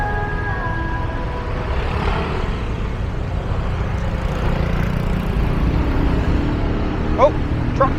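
A truck rumbles past amid dense rush-hour traffic in the Philippines, heard from a motorbike: a loud, steady wash of engine and road noise, with a few brief squeaks near the end.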